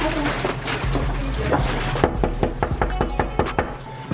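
About a dozen sharp knocks on a door in an irregular rhythm, following a stretch of muffled background noise.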